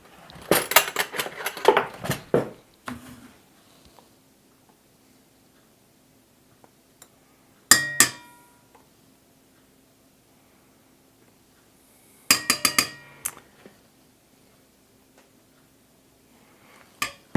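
A spoon clinks sharply against a bowl while tahini is measured in for pumpkin muffin batter: a quick cluster of metallic taps, then two more short sets of clicks separated by long near-silent pauses.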